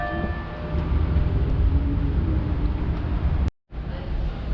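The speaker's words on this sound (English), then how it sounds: "Always a lot of trams running by." Trams rumble past on a busy street in Zurich near the Limmat river, a steady loud low roar of wheels and traffic that briefly cuts out before resuming.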